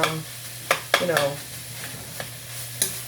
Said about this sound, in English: my 5-prong spatula to evenly chop up the meat